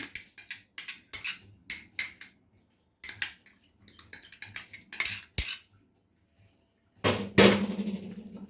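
A utensil clinks and scrapes against a bowl in quick irregular bursts while sandwich filling is stirred with mayonnaise and tomato sauce, ending in a louder clatter.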